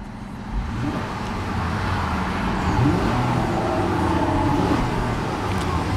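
A one-owner 2008 Acura TL Type S engine revs, its tone rising and easing over a steady, moderately loud hum with no talk.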